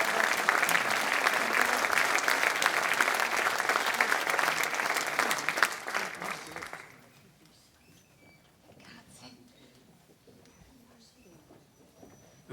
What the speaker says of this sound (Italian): quindi un applauso anche a lui.